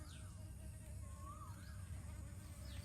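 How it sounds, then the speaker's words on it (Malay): Bees buzz faintly around flowers outdoors, a thin wavering drone with a few passing swoops over a steady low rumble of background noise. "Kita tengok lebah ya."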